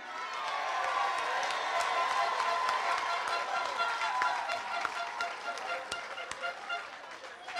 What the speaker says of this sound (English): They deserve the loudest round of applause you can give them.